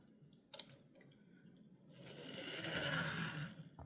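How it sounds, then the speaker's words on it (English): Faint whirring, rattling roll of small plastic wheels of a Matchbox 2017 Toyota Land Cruiser 78 toy car over a track, growing louder and rougher midway, with a couple of light clicks early on. "it rolls really well. It does produce some noise"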